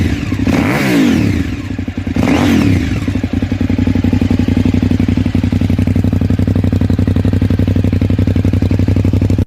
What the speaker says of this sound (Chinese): 先大家听一下排气声浪